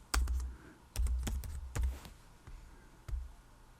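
Typing on a computer keyboard: several short clusters of crisp key clicks with brief pauses between bursts, close and quiet, with no talking.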